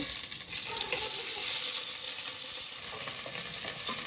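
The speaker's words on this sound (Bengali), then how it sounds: "তেলের মধ্যে দেওয়া হলো জিরে ফোড়ন তারপরে দেওয়া হবে পেঁয়াজ কুচি" Cumin seeds and chopped onion sizzle in hot oil in a pot while cooking goat meat curry, a steady, close, dense crackle and hiss running throughout without any voices.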